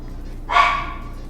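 A single sharp bark from a dog nearby, loud and brief, rising out of a quiet room with faint background hum.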